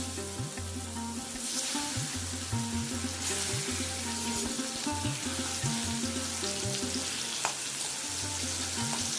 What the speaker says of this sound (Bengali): গ্যাসের ফ্লেমটা মিডিয়াম টু হাইতে রেখে বাকি 3 পিস মাছকেও দেখো একদম লাল লাল করে ভেজে নিয়েছি